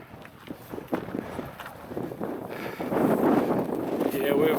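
Cold, icy wind blusters across an outdoor alpine lakeside spot in New Zealand's South Island in winter, a steady broadband rush that swells louder midway, with voices talking faintly underneath.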